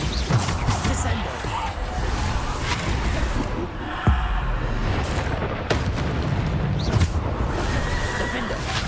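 Spells cast in the Hogwarts Legacy video game during a trial boss fight, Bombarda explosions and Descendo slams, land as a rapid series of booming impacts and crashes over a continuous roaring battle din, with a voice talking throughout.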